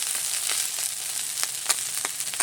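Small chuno mouti fish fry in oil, a steady close crackling sizzle with occasional sharper pops and spits, alone without talk.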